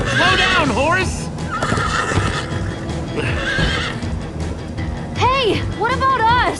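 Loud, repeated horse whinnies ring out over rapid galloping hoofbeats in the Minecraft: Story Mode game, with people talking and game sounds underneath the whole time.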